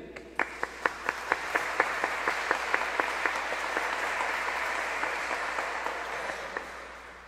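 Church congregation at a Sunday Mass applauding a couple celebrating their 50th wedding anniversary; a few sharp distinct claps open into steady, moderately loud applause in a reverberant hall with scattered louder claps standing out, no talk.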